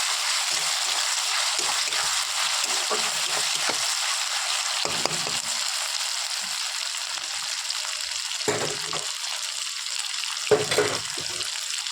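Ginger-garlic paste frying with browned onions in plenty of oil makes a loud, continuous sizzle, broken now and then by the scrape and clatter of stirring.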